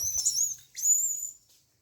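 Birds chirp in two quick bursts of high, bright tweets during summer feeding of birds and monkeys with cucumber, brinjal and ridge gourd; close and fairly loud, then fading to quiet.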